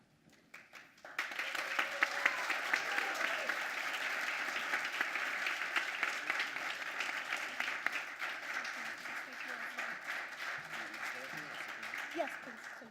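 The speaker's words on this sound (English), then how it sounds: "let's give them another round of applause" Audience applause at a student government board induction ceremony, a steady sustained round of clapping from a crowd lasting throughout, loud and close, with no talk over it.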